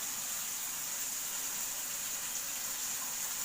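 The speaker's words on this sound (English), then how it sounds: "don't turn off the faucet after rinsing." Running water from a faucet: an even, unbroken hiss of flow held steady for a few seconds, alone without speech.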